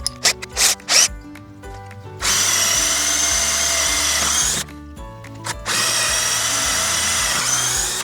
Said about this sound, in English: Then we can drill our full-size holes.